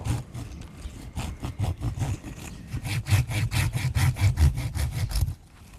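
Hand saw cutting through tough tamarind bonsai wood, close and loud, with a steady run of rasping back-and-forth strokes that quicken toward the end before stopping abruptly.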